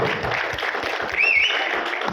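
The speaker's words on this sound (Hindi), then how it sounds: "जोरदार ताली सुगम सर के लिए" Loud crowd applause at an indoor gathering in a hotel, a welcome for a guest named Sugam, steady clapping filling the whole stretch with a brief swell near the middle.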